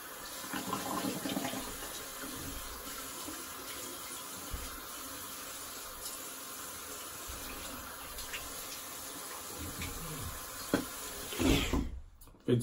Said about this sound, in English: Just gonna rinse.